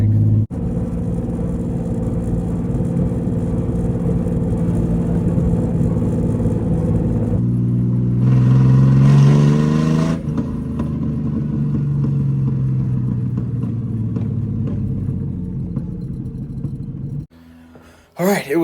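Turbocharged BMW E36 with an open header rumbles loudly as it drives, its engine swelling into a sharp rev midway before settling back to a steady drone, then cutting off near the end.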